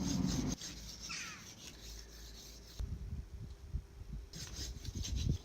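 A kitchen knife is rubbed across a fine diamond sharpening stone in a few short, quiet rasping passes separated by brief pauses, with no one speaking.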